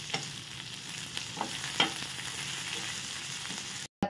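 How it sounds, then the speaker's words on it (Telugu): Dry red chillies and curry leaves fry in hot oil for a mango and brinjal pickle, a steady close sizzle with scraping stirs throughout before a brief cut at the end. "కరివేపాకు మొత్తం వేసేసి వేపేయాలి."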